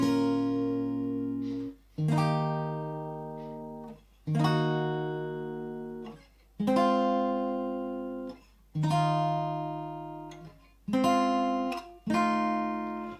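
Strummed guitar chords from a song ring out one at a time, each left to sustain before a short pause and the next chord, slow and unaccompanied.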